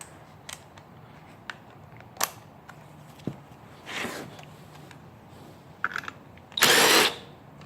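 A 17mm bolt holding the clutch on a GY6 Chinese scooter (Lancer 150) is worked loose with hand tools: scattered sharp clicks and ratchet ticks, then two brief bursts of a tool spinning, close by and fairly quiet.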